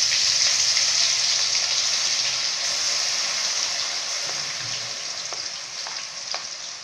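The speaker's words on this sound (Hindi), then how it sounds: "मसाला, आ भुजै छियै।" Ground onion masala frying in a pan, a steady bright hiss of sizzling oil with occasional crackles and pops, close and continuous, gently fading toward the end.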